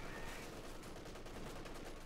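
A Panzer IV tank fires during a Company of Heroes 2 battle, its shot buried in a dense, continuous wash of gunfire and combat noise that stays loud throughout.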